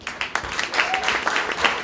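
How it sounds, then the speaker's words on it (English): Applause from the audience at a Heidelberg street festival session, thanking event partners and sponsors: about two seconds of loose, moderate clapping with a few distinct claps at the start and some faint voices mixed in. "give every single partner and every sponsor who made this event possible a big round of applause"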